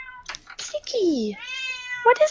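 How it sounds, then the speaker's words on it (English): A loud, drawn-out cat meow rises and falls for about a second, then a second shorter meow follows, with a person talking over and around it. "I'm sorry for my screaming cat."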